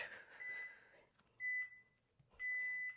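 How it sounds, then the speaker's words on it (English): Workout interval timer buzzer during a core circuit on the mat: two short electronic beeps about a second apart, clear against a quiet room, after a brief rustle. "The buzzer's about to go off."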